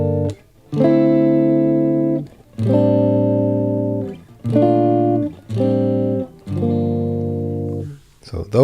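Guitar strumming a run of soul-style chords including a major seventh, each chord ringing out clearly for about a second with brief gaps between, played close and alone without talk.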